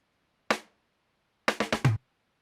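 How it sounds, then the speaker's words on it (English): Disco drum fill sample from a disco sample pack: a single dry hit, a short pause, then four quick hits in a rapid run, crisp and close, alone. "I wanted some kind of drum fill"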